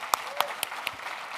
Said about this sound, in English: I'd like to give a big round of applause to Victoria and Martin